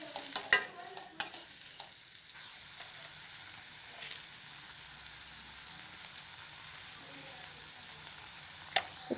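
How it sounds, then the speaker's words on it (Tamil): Onions and curry leaves sauté with salt in a pan for ridge gourd kootu, a low sizzle under scattered sharp scrapes and clinks of a spoon stirring, loudest near the start and again near the end. "உப்பு சேர்த்து நல்லா வதக்கிக்கோங்க."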